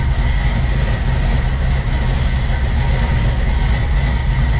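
1976 Chevrolet Nova engine idling very low, a loud, steady, rumbling idle up close with a slightly uneven low-frequency throb.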